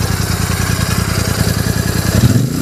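A small motorcycle engine idles steadily close by, heard from the left side, its even low pulsing throb running continuously with a slight rise near the end.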